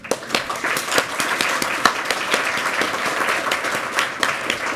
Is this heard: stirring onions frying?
no